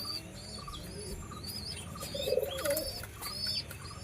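Tournament-ready Pakistani pigeons coo softly in a low, rolling call, with faint higher chirps from other birds in the background and no talking.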